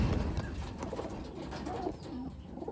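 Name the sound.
Taiwan pigeon hens cooing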